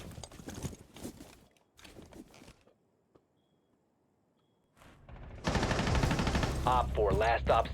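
Gunfire in the video game Where Winds Meet, bursts of rapid shots in clusters with a quiet gap in the middle, followed by louder mixed game noise and a voice at the end.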